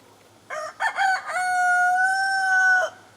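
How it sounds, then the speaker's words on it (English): A white splash Whiting True Blue rooster crows once nearby, loud and clear, a few choppy opening notes rising into a long sustained call that cuts off after about two and a half seconds. "That is a white splash whiting true blue rooster."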